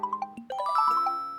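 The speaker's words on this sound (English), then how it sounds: "And he's getting a phone call." A bright, tinkling chime melody plays as a phone ringtone in Animal Crossing New Horizons, a quick sequence of bell-like notes ending in a sustained ringing tone, clear with no talking.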